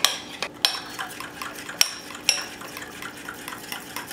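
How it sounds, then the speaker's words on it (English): A spoon mixes pancake batter by hand in a bowl, giving repeated sharp clinks against the bowl over a soft wet swishing, close and steady, without speech. "So I'll mix it by hand until it becomes very smooth"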